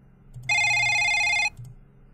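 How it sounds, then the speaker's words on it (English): A mobile phone in a video game rings with a single bright electronic tone lasting about a second, loud and clear over a quiet low hum. "A halo of light surrounded my phone. It was going off."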